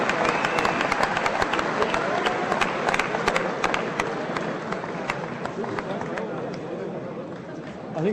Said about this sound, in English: Crowd here enjoying that round and the good work from Declan Lonergan.